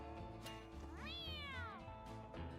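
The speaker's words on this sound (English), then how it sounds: "did I just hear an oh yeah from our necromancer cat?" A cat character in the video game Mewgenics, a necromancer cat, gives a single drawn-out meow with a rising then falling pitch, heard clearly over a steady game music bed.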